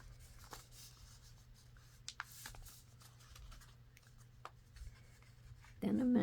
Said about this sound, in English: And you're just going to take these 2 corners, bring them in together, and fold these down.